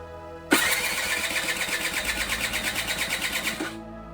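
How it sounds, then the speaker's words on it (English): A Suzuki LT quad engine cranks over during a compression test with a fast, even chugging rhythm for about three seconds, then cuts off. It is close and loud, with no voices. "So let's turn this thing over and see if our engine is up to spec."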